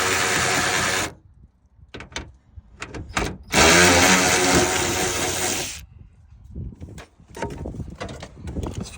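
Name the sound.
18-volt electric ratchet with 4-inch extended neck removing nuts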